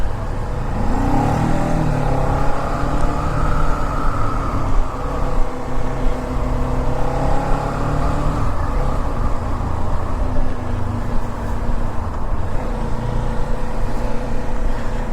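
Kawasaki Ninja 400 motorcycle idling and revving through its stock exhaust, a loud close engine drone with rising and falling rev sweeps and a thin, strained tone, no talking.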